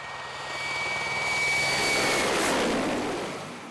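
Indian Air Force Mi-17 helicopter passing overhead, a steady broad engine and rotor roar that swells toward the middle and slowly fades, with a thin high whine running through it.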